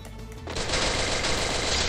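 Rapid automatic gunfire in the game Free Fire erupts after a brief quiet moment and continues in a dense, loud burst with a game-like sound.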